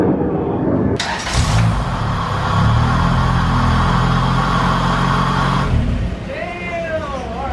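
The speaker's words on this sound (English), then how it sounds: "We got the throttle body on and it finally idles smoothly" Honda Integra engine idling smoothly after a new throttle body install: a car engine starts up, holds a steady loud rumble for several seconds, then drops away as a voice speaks near the end.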